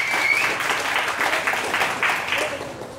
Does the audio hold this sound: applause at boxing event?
yes